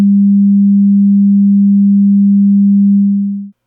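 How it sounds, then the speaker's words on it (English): Pure 200 Hz sine test tone sounding steady and loud on its own for roughly three and a half seconds, then tapering off abruptly. "Okay, and now here is 200 Hertz."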